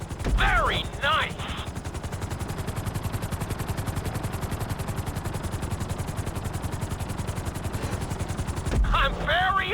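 Helicopter in GTA V setting down on a landing pad, its rotor thumping in a rapid, steady chop that stays loud and close throughout, with brief bursts of other game sounds at the start and end.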